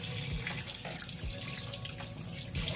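Fish washed by hand under a running kitchen tap, the water gushing steadily into the sink with splashes and light clatter as the fish are handled, close and without talk.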